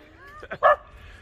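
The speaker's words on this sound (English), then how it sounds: "There's the dogs barking at the camera." A short burst of two or three quick dog barks or yips at a security camera, fairly close, following a brief tonal whine, with faint background hum.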